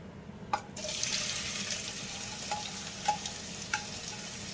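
Onions sauté in hot oil, giving a soft steady sizzle close by, with a few light knocks and scrapes from stirring scattered through.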